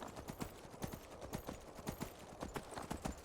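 Horse hooves clip-clop at a steady trotting rhythm while riding in Skyrim Special Edition, with even, moderately close beats over a soft ambient wash.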